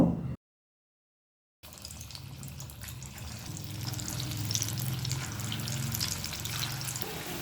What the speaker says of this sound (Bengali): গ্যাসটাকে মিডিয়াম ফ্লেমে রেখে এভাবে উল্টে পাল্টে তিন থেকে চার মিনিট ভেজে নিলেই পকোড়াগুলো ভাজা হয়ে যাচ্ছে